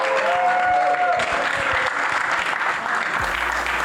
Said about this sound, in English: can we get a big round of applause for our Season 10 premier grand finalists, the Bloomington Maulers.